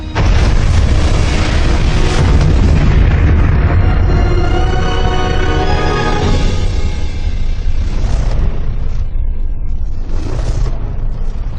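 A massive, rumbling hypernova explosion roars loudly and continuously, a deep booming blast with swelling layers of crackling noise that slowly fade toward the end.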